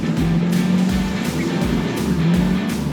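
A 4WD with a 2-litre petrol engine brakes hard on sand, giving a loud, steady engine drone with tonal low hum and broad gritty noise as the tyres plough through, repeated surges across the stretch.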